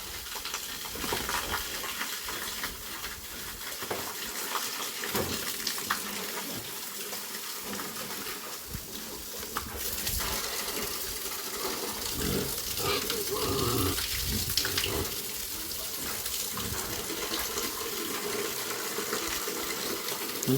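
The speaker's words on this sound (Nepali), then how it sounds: "म पानीले यसरी भिजाइदिन्छु तिमीहरूलाई" Water spraying and splashing onto pigs in a pen during hot weather, a steady rushing hiss that runs continuously for the whole stretch, with occasional grunting and shuffling of the pigs close by.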